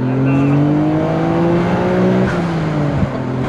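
A Nissan GT-R R33 with a 450 hp 400R kit launching from standstill in first gear, engine roaring and revving hard, holding a loud, steady drone with rising harmonics, then dipping briefly near the end before pulling again.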